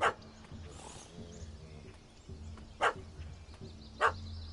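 A dog in The Witcher 3 video game barks at a cat that has fled up a tree: three sharp, separate barks spaced a second or more apart, over a low in-game ambient hum.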